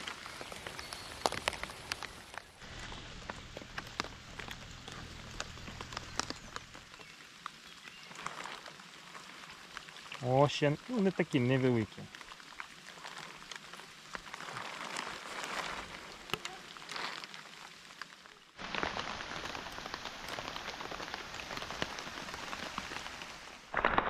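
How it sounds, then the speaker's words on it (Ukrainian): Rain falling on a marsh, a steady soft patter of drops across the whole stretch, with brief talk in the middle and a louder burst of rain near the end. "Дощ почався."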